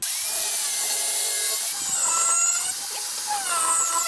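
A power tool cutting an inch off a custom rear diffuser for an Audi S3 8V, a close, continuous high grinding whine that dips and rises as the blade works through the material.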